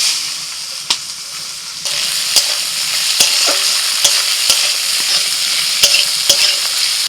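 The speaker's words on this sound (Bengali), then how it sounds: "ওই তেলের মধ্যে দিয়ে দিচ্ছি সরু সরু করে কাটা আলু আর পেঁয়াজ।" Thinly sliced potato and onion fry in hot oil with a loud, steady sizzle, broken by occasional sharp clicks of stirring throughout.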